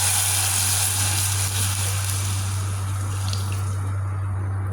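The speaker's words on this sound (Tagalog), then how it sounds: "Bigyan natin ng tubig para mahulog yung toyo." Water being poured into a pot of Filipino tinulang toyo, a soy sauce stew, with a steady trickling, dripping wash under a loud constant low hum from the stove or cooking area.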